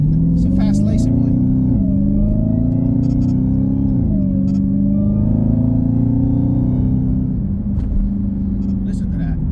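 A Dodge Hellcat Widebody's engine drones in a deep, steady rumble at quarter throttle, with slight swells in pitch, while someone talks over it throughout.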